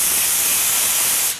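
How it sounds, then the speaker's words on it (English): A spray gun applies 206 adhesive onto vinyl with a loud, steady, close hiss that stops abruptly near the end. "Now we're ready to spray the vinyl."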